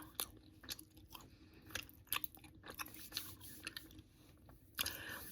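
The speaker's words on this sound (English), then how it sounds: "I'm just chewing the gum to get to the right consistency" Close, quiet, moist chewing of gum with soft smacks and occasional louder clicks, spaced irregularly, in a hushed setting without talk.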